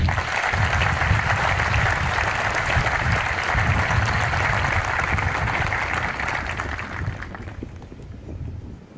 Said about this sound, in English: Ladies and gentlemen, please join me in giving our awardees a round of applause.